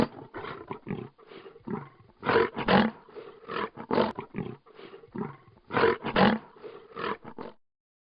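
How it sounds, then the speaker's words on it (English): A lion roars in a series of deep, pulsing grunts that build into louder bursts, close and powerful, then taper off. "Lion."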